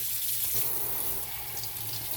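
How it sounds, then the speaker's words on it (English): Sink sprayer running warm water over fresh morel mushrooms being washed in a kitchen sink, a steady close hiss and splash of spray continuing without pause and no talking. "You got to wash them with a sprayer."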